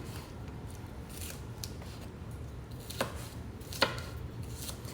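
Cabbage sliced with a knife on a cutting board for Southern fried cabbage, a few crisp distinct chops standing out from a soft background, with two sharp cuts near the end.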